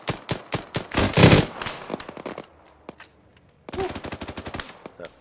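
Arma 3 gunfire in a clan operation: rapid bursts of loud close shots in dense clusters, a pause with a few scattered reports, then another fast volley, with no talk.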